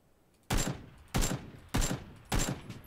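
Gunfire in the video game PUBG (Battlegrounds) rings out as four loud, evenly spaced bursts of shots, each a sharp crack trailing off quickly, close and alone with no talk.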